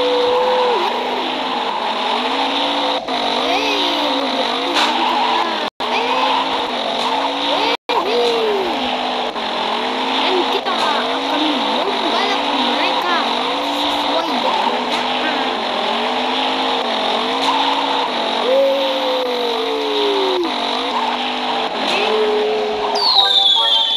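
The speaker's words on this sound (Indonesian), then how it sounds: "Dan kita akan balap mobil-mobil ini guys." Race cars in the video game Stunt Car Extreme, engines droning steadily with repeated rising and falling revs as gears shift. A loud, continuous roar plays throughout, with brief dropouts.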